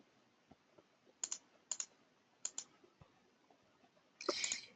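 Several crisp, close computer mouse clicks come in quick pairs, spaced apart against a quiet background, followed by a louder, denser rattle of clicking near the end.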